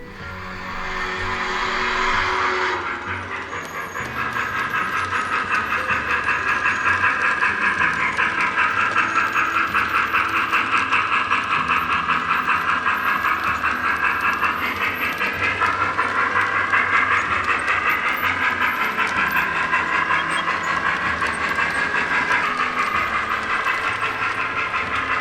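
A model railroad train runs along the main line of a 240-foot layout, giving a steady mechanical rumble and whir with faint rhythmic clicking. It is fairly close and continuous throughout, with no talk over it.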